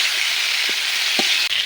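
Mukhi kochu (arum) pieces frying in oil with turmeric and salt, a steady close sizzle with a few soft clicks of stirring, no voices.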